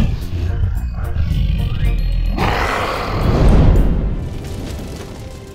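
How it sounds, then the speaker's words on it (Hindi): A storybook dragon lets out a loud, close roar, then a rushing, booming blast of fire breath swells and fades over several seconds, with no voices over it. "ड्रैगन जोर से दहाड़ा और अपनी आग से जमीन पर लाठियां जला दी।"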